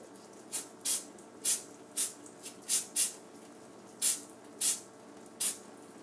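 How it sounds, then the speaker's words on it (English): Liquid Wrench Teflon-based dry lubricant sprayed from an aerosol can onto a Polaris RZR part, ten short sharp hissing bursts at uneven intervals, close and clear. "Now I'm using a liquid wrench dry lubricant."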